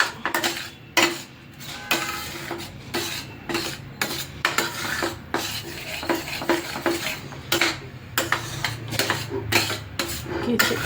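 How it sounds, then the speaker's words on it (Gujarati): Amaranth flour sheera stirred in a pan with a metal spoon, repeated scraping and clinking strokes against the pan in an uneven rhythm over a soft sizzle, close and clear with no talking. "કન્ટિન્યુ હલાવવાનું છે, નકર નીચે પાછો બેસી જશે."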